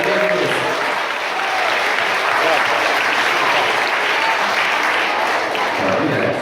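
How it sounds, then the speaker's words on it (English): Sustained applause from a large crowd at a sheep show, steady and dense clapping filling the whole stretch without letting up. "Let's get all the big round of applause."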